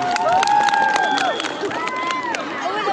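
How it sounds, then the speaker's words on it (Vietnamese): An audience at a Red Dao spring wedding festival applauds and cheers, a dense burst of clapping and crowd shouts mixed with hubbub, loud and close, with a voice calling out over the noise. "Xin quý vị cho một tràng pháo tay."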